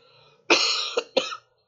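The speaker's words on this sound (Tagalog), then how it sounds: "Sorry sa ubo." A close, loud cough during a psychology lecture: one harsh burst followed by two shorter hacks in quick succession, with no talking.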